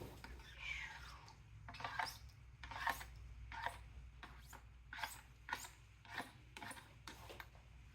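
A scraper rasps unmixed glow-in-the-dark paint off a surface in a series of short, close scrapes repeating roughly every second, with steady low hum beneath.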